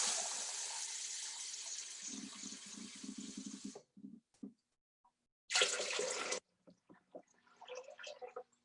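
Tap water runs in a steady loud stream into a pot as water is measured out for cooking rice in a steaming basket, stopping and then pouring again in a second short burst, followed by small splashes and drips.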